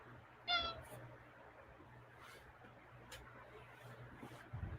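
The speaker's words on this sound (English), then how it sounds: "There's my cat coming in to annoy me." A house cat meows once briefly and fairly close in a quiet indoor room, followed by a low steady hum with faint rustling.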